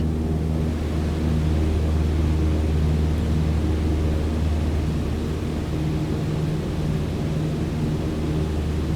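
A light airplane engine throttled back to 2,300 RPM, a loud continuous drone with steady low rumble and broadband wind noise filling the cabin, constant throughout.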